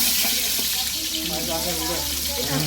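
Sliced onion dropped into hot oil in a home kitchen, giving a steady, loud sizzling hiss throughout, with voices talking faintly in the background.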